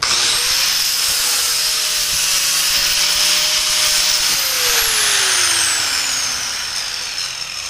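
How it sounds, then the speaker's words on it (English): An angle grinder cuts through a metal tube for a tube chassis front end, a loud steady high whine with a slowly falling pitch as the cut finishes. "we need to cut down the back of this just a little bit. I'm going to do that with the grinder."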